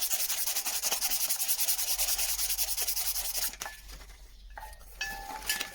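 Rapid back-and-forth rasping of P600 sandpaper on a Honda Fireblade CBR900RR engine gasket surface, steady and close for several seconds, then stopping, followed by faint clinks of metal parts being handled.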